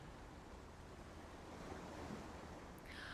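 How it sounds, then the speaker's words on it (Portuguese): Sea waves washing in a soft, continuous surf rush, faint and distant, with a breezy hiss and no voices. "Escute o barulho do mar."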